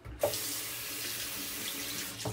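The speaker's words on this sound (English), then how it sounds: "Just did a warm water, cold water rinse." Tap water runs steadily into a sink for rinsing after shaving, with a constant hiss and splash, starting abruptly after a brief click and continuing alone at close range.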